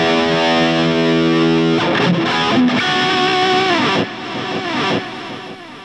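An electric guitar runs through a Guitar Rig 5 distortion patch in high mode, with a loud, thick sustained chord giving way to a fuzzy, bending rock solo line that fills the whole clip.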